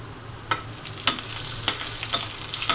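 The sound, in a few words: tempering dal: onion and panch phoron frying in oil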